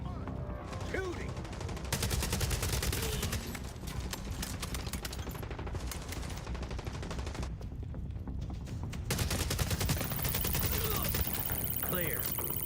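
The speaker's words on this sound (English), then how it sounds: "Shooting." Dense gunfire and bursts of shooting from a Call of Duty Resurgence match, a fairly steady, busy barrage with mixed game effects running throughout, with no talking over it.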